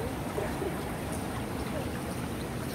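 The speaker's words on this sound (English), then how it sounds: "Even look, all the water is coming out." Continuous rushing, gurgling water flowing steadily without pause, with faint voices in the background.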